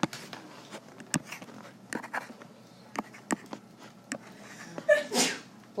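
A single sharp sneeze near the end of a quiet classroom scene, preceded by scattered soft taps and rustles.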